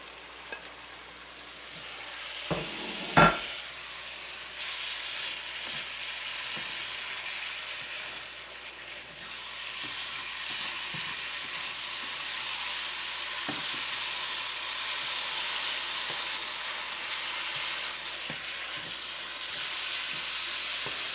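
Eggplant pieces dropped into a pan of curry meat sauce with green onions and parsley, sizzling and frying steadily, with a couple of clunks and stirring scrapes near the start and a continuous hissing sizzle throughout, no talking.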